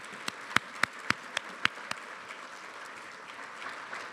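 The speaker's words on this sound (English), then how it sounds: "Give them another round of applause." A few people clap for the panelists at a community event: about seven sharp, separate handclaps in a slow irregular run, then a faint scattered patter that trails off quietly.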